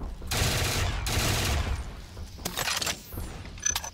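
Bursts of rapid gunfire hit zombies on a Black Ops 3 custom zombies map, two long volleys followed by sharper, scattered shots and clatter.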